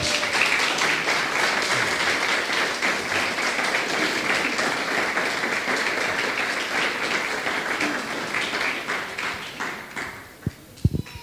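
Congregation applauding the Lord during a church service at a firstfruits celebration in Barcelona, a loud, steady wash of many hands clapping that runs for about ten seconds before thinning out into a few scattered claps.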